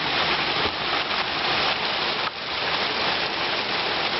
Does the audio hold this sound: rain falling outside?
yes